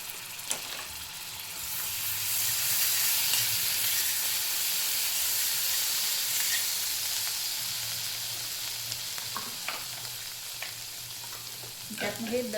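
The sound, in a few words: ginger garlic paste and cumin sizzling in melted butter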